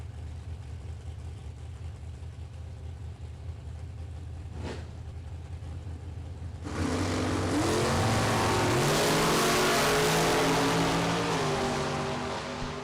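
A Chevrolet Vega and an Oldsmobile 442 at a drag race: a low engine idle drones in the background, then both cars launch with a sudden loud roar that climbs in pitch through several gear changes before fading slightly.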